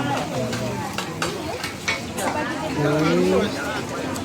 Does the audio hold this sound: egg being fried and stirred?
yes